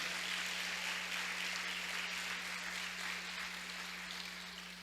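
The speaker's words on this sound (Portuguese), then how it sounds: "Pode dar uma salva de palmas?" A church congregation claps together at a preaching service in a steady wash of applause that stays even and fairly distant, tapering slightly toward the end, with a low electrical hum underneath.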